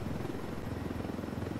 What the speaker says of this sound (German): Das ist ein Transportheli, der voll ist mit Uran.